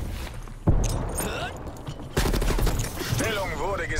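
Gunfire in the video game Call of Duty Black Ops Cold War comes as sharp bursts and rapid volleys over busy game sound, with a player talking in between.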